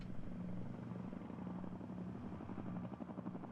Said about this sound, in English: And then you just hear the sound of the helicopters coming in with the gunships.